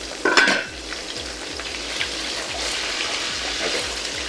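Salmon frying and browning in a pan sizzles steadily and close, with a brief louder clink of a utensil near the start and small crackles throughout.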